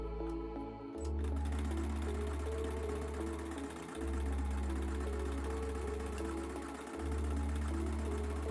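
Sewing machine stitching a crop top seam, its motor humming in steady runs of about three seconds separated by short pauses, close and fairly loud with no talk.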